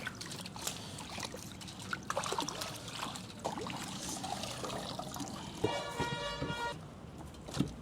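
Clean water trickles and splashes while a large fish of roughly 3.5 to 4 kilograms is rinsed before grilling, with uneven dribbling and handling noises at close range and a brief tooting tone near the end.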